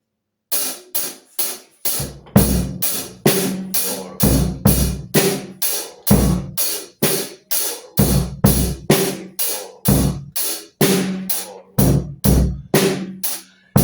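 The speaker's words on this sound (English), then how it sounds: "Instead of hitting the bass kick once, I hit it twice." A kick drum pounds a steady rock beat, alternating single and double hits over a repeating drum pattern, loud and close with no talking.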